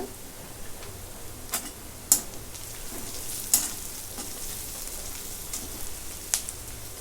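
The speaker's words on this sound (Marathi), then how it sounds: "आता मिरच्या टाकून घेते आता थोडीशी हिंग" Green chillies and a pinch of asafoetida dropped into hot oil for potato-onion poha: a faint, steady frying hiss with a few sharp crackles and pops spaced through, close by.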